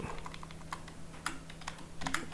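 Typing on a computer keyboard while editing CSS padding code: a steady run of light, close keystrokes with uneven rhythm and no voices.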